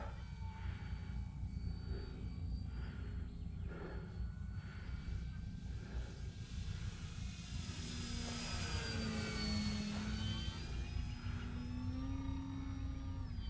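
An electric RC airplane, an OMP Bighorn on a 3S battery, has its motor whining steadily through takeoff, a constant near buzz with rising pitch sweeps toward the end over a rumbling outdoor background.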